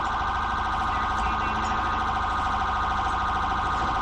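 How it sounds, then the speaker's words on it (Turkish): A steady electronic police car siren in GTA 5 wails continuously at high volume, close and unbroken, with no voices over it. "Şu sireni kapatayım da."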